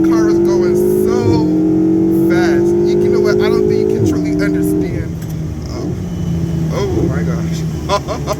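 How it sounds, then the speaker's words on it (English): Ferrari sports car driving fast, its engine holding a loud steady drone that rises through gear shifts, with people talking over it in the cabin. "this is my first time in a Ferrari. Oh, no way, yours too? Yes. Oh my gosh. So this car is going so fast."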